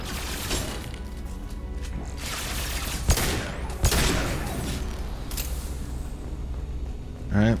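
Sniper rifle fire in Mass Effect: Legendary Edition, a few sharp, widely spaced shots amid ongoing combat rumble and mechanical noise, with a voice heard near the end.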